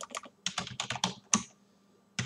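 Keys clatter on a computer keyboard as a terminal command is typed, a close, quick cluster of crisp taps with short pauses and a final pair of strokes.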